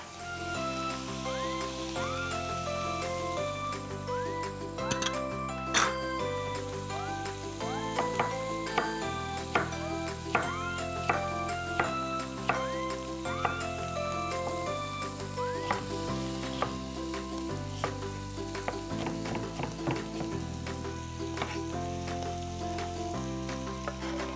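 Garlic and onion fry in butter with a steady sizzle, set low beneath continuous background music with tonal melody lines.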